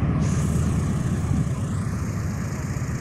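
A deep, continuous roar of a B-17 bomber's piston engines rumbles steadily, with a faint rising whine on top and no talking.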